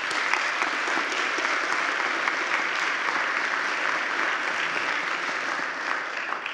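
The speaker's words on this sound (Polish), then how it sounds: "Wielkie brawa." Steady audience applause fills a congress hall, a dense even wash of clapping holding at the same level from start to finish with no talk over it.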